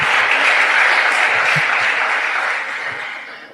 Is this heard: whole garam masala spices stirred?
no